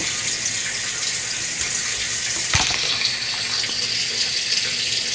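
A Maytag MVWX655DW1 top-load washing machine filling with cold water, a steady loud rushing hiss of water pouring into the tub with towels, continuous throughout with a brief thump midway and no talking.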